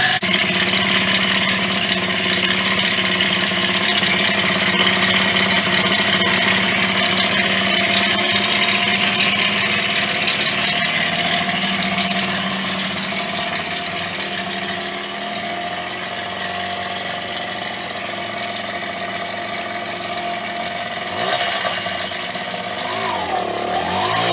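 A Yamaha DT 50MX motorcycle's small two-stroke engine runs continuously at close range, its idle drifting and the revs creeping upward on their own, a buzzy steady drone throughout.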